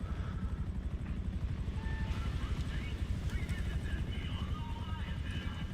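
A helicopter circles in GTA Online, its rotor chopping in a steady, fast pulse beneath a dense bed of game noise at moderate loudness throughout.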